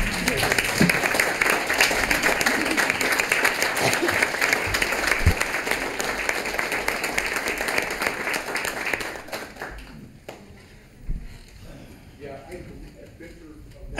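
Attendees at a Livingston council meeting give everyone a round of applause after a roll-call vote, a full, dense wash of clapping for about nine seconds before it breaks off into quieter murmuring and talk.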